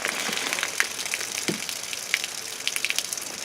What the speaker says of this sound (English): And the water is coming out clear.